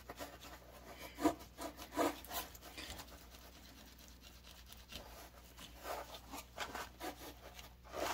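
Patina being rubbed into the soldered seams of a stained glass cocker spaniel piece, a soft, steady scrubbing and scratching that runs throughout at close range, with a few sharper rubs near the start.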